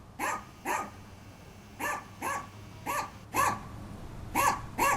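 Small dogs barking outside at a sanctuary, a series of about nine sharp barks in loose pairs, moderately near, over a soft background.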